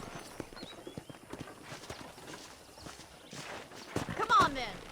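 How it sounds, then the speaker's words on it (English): Horse hooves clip-clop at a steady walking pace in the Red Dead Redemption video game, a run of close, crisp knocks over a busy ambient bed with a brief louder burst near the end. "I picked out a fine horse for you."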